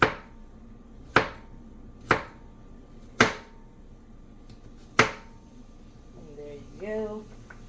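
A knife chops broccoli on a cutting board in a home kitchen with five sharp, separate strikes at uneven intervals. Brief quiet talk follows near the end.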